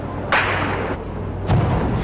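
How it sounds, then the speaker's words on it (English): A gunshot rings out during the Westgate mall siege in Nairobi as a sharp, loud crack echoing over a low background rumble. A second, similar report follows about a second later. "a shot rings out"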